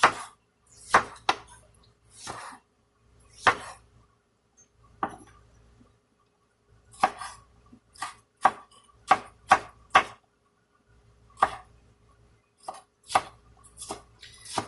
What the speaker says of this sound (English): Give it a chop.